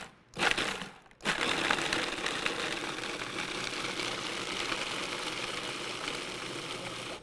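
Food processor grinding raw hazelnuts with sugar and salt into fine flour, a brief start and pause followed by a steady, loud, gritty whirring that runs continuously to the end with no talk.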